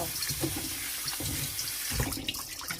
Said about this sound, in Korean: 여기 물에 이렇게 조물조물해서 한번 이렇게 씻어줄게요